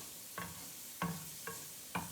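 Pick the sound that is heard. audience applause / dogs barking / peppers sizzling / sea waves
peppers sizzling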